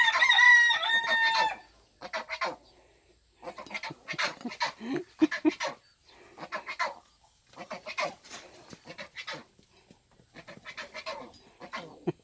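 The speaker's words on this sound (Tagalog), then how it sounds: "Agagalit yung manok ko." A chicken gives a loud, drawn-out crow-like squawk, then bursts of agitated squawking and clucking follow in short, irregular bouts nearby.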